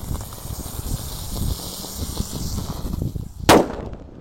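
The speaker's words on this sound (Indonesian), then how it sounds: "ada mercon Tor yang kita nyalakan" A hissing firecracker fuse crackles for a few seconds, then a single sharp, loud bang bursts nearby and quickly fades.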